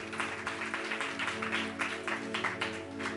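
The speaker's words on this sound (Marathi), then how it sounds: "जरा जोरदार टाळ्या प्रभूच्या गौरवासाठी" A church congregation claps together during a service, giving a steady run of rhythmic applause over a sustained background tone, with no voices standing out.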